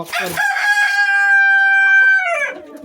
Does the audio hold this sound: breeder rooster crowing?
yes